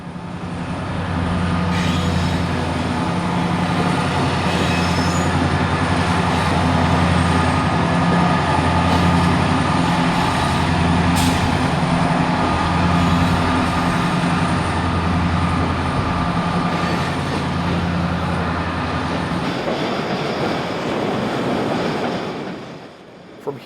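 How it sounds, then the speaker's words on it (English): A CN transfer freight train departs behind a pair of former Illinois Central EMD SD70 locomotives, a long steady rumble of engines and rolling cars with occasional wheel squeal, loud and continuous for about twenty seconds before fading at the end. "CN's L537 transfer run to Glen Yard departs behind a pair of former Illinois Central EMD"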